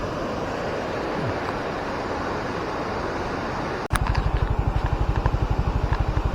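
River water rushing after a flash flood near a collapsed bridge, a loud, steady roar of flowing water with broadband wind-like noise, and a low rapid pulsing like a passing motor in the last few seconds.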